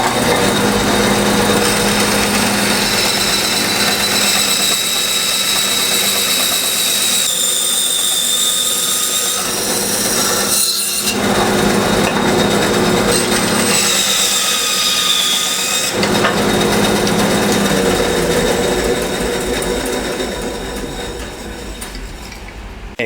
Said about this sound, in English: I'm just going to cut my block of wood here in half